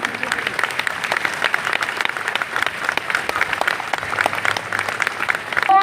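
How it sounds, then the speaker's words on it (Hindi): Audience applause at a Haryana Police recruit passing out parade fills the air as a steady, dense clapping from a large outdoor crowd, continuing for several seconds. "दर्शकगण कृपया तालियां बजाकर जवानों का हौसला बढ़ाएं।"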